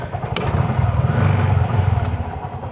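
An auto-rickshaw engine chugs close by while the vehicle reverses in second gear, a loud, steady, slightly uneven two-stroke putter throughout with a short metallic click early on.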